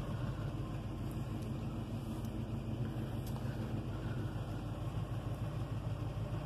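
A 1973 Dodge Titan motorhome with a 1971 or 1972 engine idles while warming up, a steady low rumble that stays even throughout with no talking.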